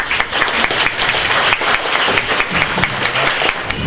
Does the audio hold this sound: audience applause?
yes